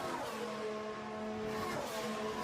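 A Cadillac spins out at Abbey in a Formula One racing video game at the British Grand Prix, its tires squealing in a sustained tonal whine over the engine note, fairly faint and continuous.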